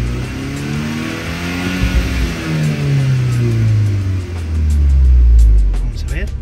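A Volkswagen Golf R fitted with a K04 turbo revs up close, the engine climbing into a loud swelling roar that falls and rises again, with no one speaking over it.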